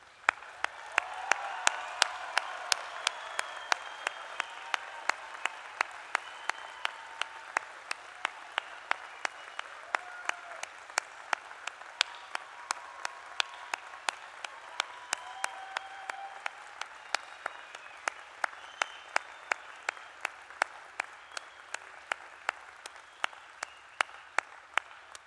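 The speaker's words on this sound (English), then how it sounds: "Please join me in congratulating our graduates by giving them a warm round of applause" Audience at a university graduation ceremony giving a sustained round of applause, steady dense clapping throughout with sharp individual claps standing out, fairly distant and even in level.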